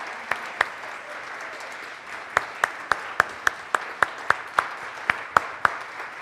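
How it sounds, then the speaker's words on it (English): A church congregation claps for new members, a handful of distinct, fairly sharp claps spaced out over a low room hum, sparse rather than a full ovation. "Please recognize our new members once more with an applause"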